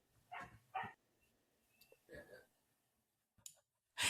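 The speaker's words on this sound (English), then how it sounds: "I'm gonna get the dog to stop barking." A dog barks a few times in short, separate bursts at moderate distance, with quiet pauses between them and a final bark cut off at the end.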